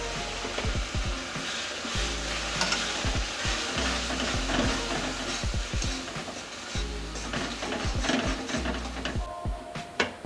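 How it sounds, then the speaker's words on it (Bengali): Paste of garlic, ginger and green chilli sizzles in a pan of browned onion for a lemon chicken dish, with a continuous moderate fry hiss and repeated rhythmic stirring scrapes of a spoon against the pan. "পেঁয়াজটা আমি লাল করে ভেজে নিয়েছি। এবার রসুন, পেস্ট করা রসুন দিয়ে দিলাম, আদা আর কাঁচা লঙ্কা পেস্টটা দিয়ে দিলাম।"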